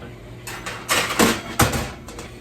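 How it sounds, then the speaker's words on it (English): A tray of cookies slides into a home oven and the oven door swings shut, giving a few close clunks and a scrape with a louder knock near the end, over faint kitchen room noise. "Time for these to go in the oven."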